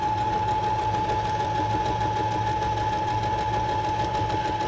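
A noisy old sewing machine runs continuously while stitching, giving a steady loud mechanical hum and rapid rattling throughout with no pauses.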